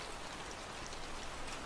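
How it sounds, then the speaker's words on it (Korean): Steady rain patters densely on a surface, an even hiss of countless small drops with no pauses or voices. "오늘의 주인공은 빗소리이니 당연한 대우다."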